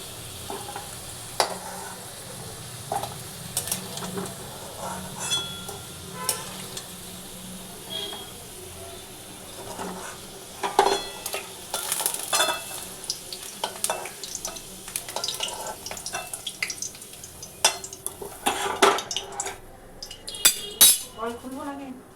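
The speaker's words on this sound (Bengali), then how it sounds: "আলুগুলোকে ভালো করে বন্ধুরা ভেজে নিচ্ছি আমি আগে" Potatoes frying in oil in a pan for a Bengali goat meat curry, with steady sizzling under frequent stirring scrapes and light clinks of a utensil against the pan, growing busier toward the end.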